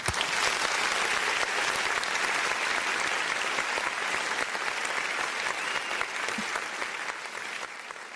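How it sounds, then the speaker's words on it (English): Sustained applause from a group, a dense even wash of many hands clapping at steady loudness for several seconds, tapering slightly near the end, with no voices over it. "I just want to give an applause to you guys."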